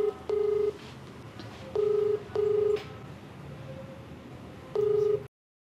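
Telephone call being connected, with dual-tone dialing beeps in short bursts separated by pauses over a quiet line, clear and close with no talking.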